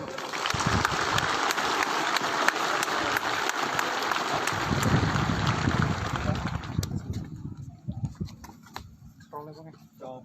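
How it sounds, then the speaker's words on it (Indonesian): An audience gives sustained, loud applause at an army officer school during a visit by the Army chief of staff in Bandung. The clapping is dense and continuous, then fades and thins out toward the end. "Ya, tepuk tangan dulu."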